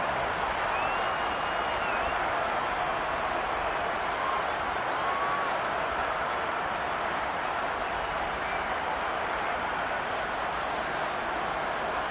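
A steady, loud roar from a football stadium crowd at a Jets vs Raiders game fills the whole stretch, building as the fourth quarter winds down toward a big third down in a one-score game.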